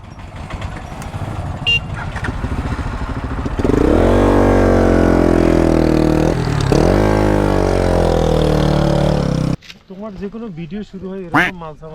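A motorcycle on a hill road in Bandarban, near Mirinja Valley, is kicked to life after a few seconds of voices, then runs loud and close with a steady engine drone and small throttle shifts before cutting off.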